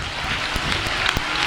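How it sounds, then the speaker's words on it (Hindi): A church congregation claps hands during a sermon, producing a broad wash of applause with a few sharper individual claps standing out, steady and fairly loud throughout the short stretch. "तालियों के साथ कहें"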